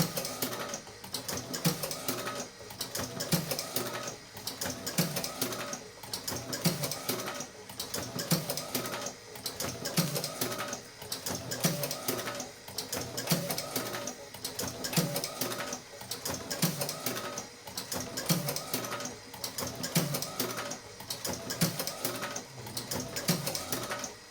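A milking machine runs continuously with a steady mechanical whir and a regular pulsing beat about once a second, moderately loud and without voices.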